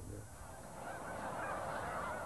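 Snow geese honking on migration, a faint, distant chorus of overlapping calls over a steady background wash.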